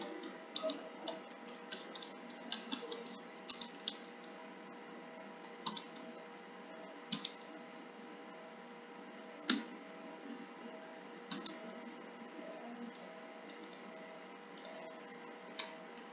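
Light, scattered keystrokes on a computer keyboard, faint and irregular clicks in short bursts over a steady background hum, with no talking.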